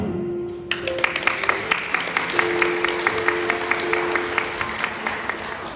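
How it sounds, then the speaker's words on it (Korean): Guests at a wedding ceremony in a hotel hall give a round of applause for the bride and groom. Moderate clapping and crowd noise play under music with a steady beat. "우리 신랑 신부님께서 인사해 주실 때 예비 여분께서는 큰 박수 보내주시면 감사하겠습니다"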